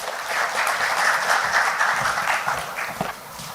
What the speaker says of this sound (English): So once again, Mr. Mohan, let's have a huge round of applause for him, please.